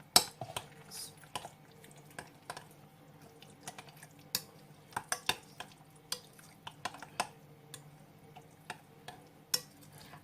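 Yoghurt is stirred in a bowl with a spoon, giving soft wet swishes and scattered clinks against the bowl at an uneven pace, close and fairly quiet.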